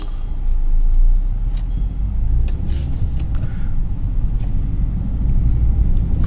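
Inside a freshly serviced car on the move, a steady low rumble of engine and road noise fills the cabin, loud and even, with no one speaking.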